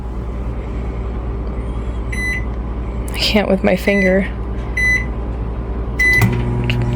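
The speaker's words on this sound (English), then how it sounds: "Alright, we're gonna microwave this." A microwave oven heats a cup of hot chocolate with a steady low hum, and a few short electronic beeps chime at intervals while someone speaks close by.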